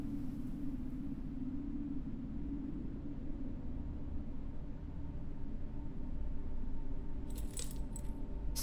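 A bunch of keys jangling in the video game Martha Is Dead, a brief metallic rattle near the end after a long stretch of low ambient rumble, with no talking.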